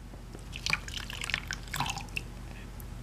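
Water showered over a child's back during a bath, heard as scattered close drips and splashes with small irregular spatters, then quieting.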